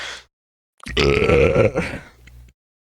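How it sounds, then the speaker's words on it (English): A single drawn-out burp lasting over a second, close and fairly loud, with brief bits of a voice just before and after it during a casual podcast chat. "I'm trying to burp away from the mic."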